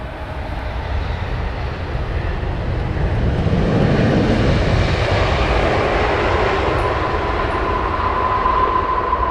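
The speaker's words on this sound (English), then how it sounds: "Wow, that was a hard landing." A Turkish airliner lands hard on Heathrow's runway 27R, a loud, steady broadband roar of jet engines and rushing air that swells slightly midway and stays close and continuous throughout.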